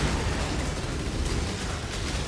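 Dense, continuous rumbling blasts fill the Path of Exile fight, loud and sustained with no talking.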